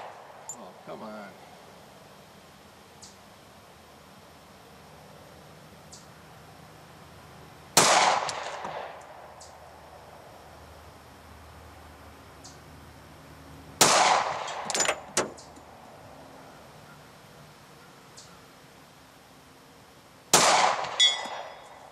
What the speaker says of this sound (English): how come you shoot a Glock 36 at 100 yards?